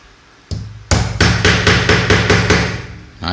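A hammer with a broken, flattened handle strikes metal while a yagi antenna is being built, giving a sharp blow, then a fast run of about eight loud, close, evenly spaced hits.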